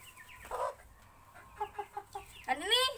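An American Silkie chicken clucks nearby in a short series of soft, rhythmic clucks, ending in a louder, rising squawk-like call, with no talking.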